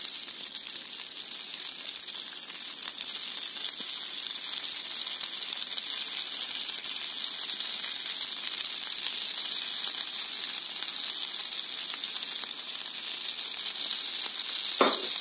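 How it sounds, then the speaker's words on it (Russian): Pizza topped with grated cheese frying in a covered pan over medium heat gives a steady, continuous close sizzle with a faint crackle, alone and unbroken throughout, with one brief clink near the end. "Накрываем крышкой и жарим на среднем огне минут 5-7"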